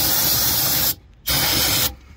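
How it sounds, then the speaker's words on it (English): Brake cleaner sprayed from an aerosol can into a diesel injector cup on a 7.3 Ford engine, two loud close hissing bursts separated by a short pause, with no talking. "Now we're gonna go ahead and spray it with a little brake clean."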